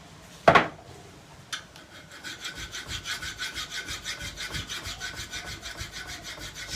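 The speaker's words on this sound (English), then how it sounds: "I think I need to start with a coarser file than that" A coarse file rasps along a bushcraft knife blade in steady back-and-forth strokes, close and continuous after a sharp knock at the start, with no talking.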